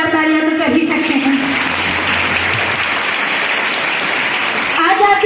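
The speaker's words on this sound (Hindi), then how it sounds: "एक बार जोरदार तालियां तो कर ही सकते हैं।" Loud audience clapping at a school oath-taking ceremony, dense and steady for several seconds, with a voice speaking over the start and the end.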